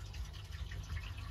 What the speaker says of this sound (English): I'm going to pour some more down the toilet and see if it works okay.